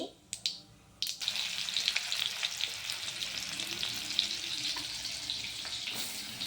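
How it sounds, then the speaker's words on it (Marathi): Onion tossed into hot oil with cumin and mustard seeds for poha, a few sharp clatters, then a sudden bright sizzle that settles into a steady close crackle with no talking. "आता आपण यात टाकूया कांदा"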